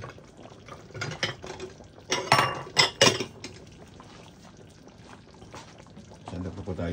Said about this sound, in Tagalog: Magsandok na po tayo.